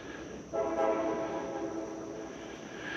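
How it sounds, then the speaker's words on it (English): A train sounds from a distance at a Stone Mountain, Georgia campground, its horn a faint sustained tone over low steady rumble, with no one talking. "You can hear the train going off in the background."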